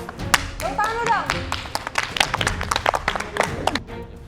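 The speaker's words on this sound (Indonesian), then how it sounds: "Tepuk tangan lu dong." An audience claps hands during a spice-guessing mini game on a cooking competition show. The clapping is a quick, uneven burst of sharp slaps with voices talking over it.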